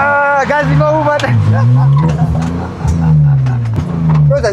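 A car engine revs hard during a drift lesson, its loud, close tone climbing and sagging repeatedly as the throttle is worked, with tire noise underneath.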